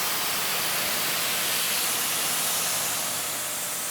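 SunJoe electric pressure washer with a 4.0 nozzle at about 800 PSI, spraying as a steady, dense, close hiss that runs unbroken for the whole stretch with no talk over it.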